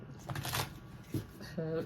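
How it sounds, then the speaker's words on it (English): Tarot cards being shuffled by hand, giving a few short papery riffles with small gaps between them, close and fairly quiet, ending with a brief tonal sound. "I'm going to just do a couple more shuffles."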